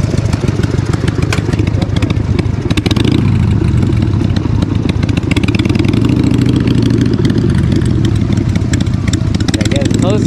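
A nearby motorcycle idles with a steady, loud, rumbling engine throughout, while someone talks over it.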